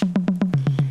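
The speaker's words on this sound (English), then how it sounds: "it's literally 808 toms." An 808 tom fill in a pop production, eight quick booming electronic tom hits in an even rhythm that step down in pitch partway through, loud and alone.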